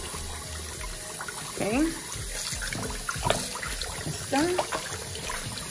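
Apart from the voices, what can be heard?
chicken wings rinsed under running tap water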